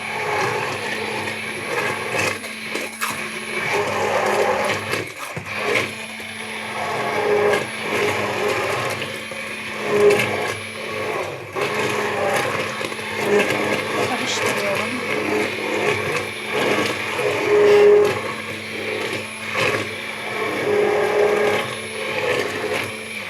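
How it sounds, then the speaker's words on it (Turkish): A kitchen blender whirs steadily through tarhana soup for a long stretch, its motor hum loud and continuous with small fluctuations, while someone speaks over it now and then. "Şimdi ben bunu blenderdan geçiriyorum."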